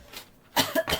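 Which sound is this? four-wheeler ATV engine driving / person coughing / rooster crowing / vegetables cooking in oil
person coughing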